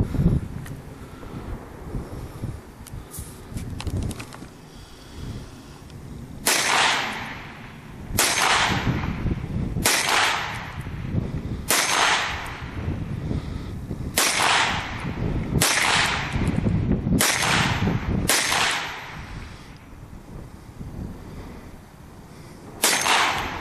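FN Herstal PS90 fired outdoors at a range, about ten sharp cracks spaced a second or two apart, each with a short echoing tail over steady wind noise.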